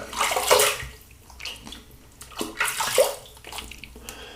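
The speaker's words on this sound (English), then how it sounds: "let's rinse off" Water splashing and sloshing as a razor and face are rinsed during a wet shave with menthol soap, two close bursts of running water separated by a brief quieter pause.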